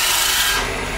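Spindle roughing gouge cutting wood on a lathe: a brief, close, continuous rasping hiss lasting about a second.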